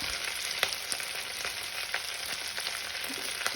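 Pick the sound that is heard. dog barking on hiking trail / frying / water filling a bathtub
frying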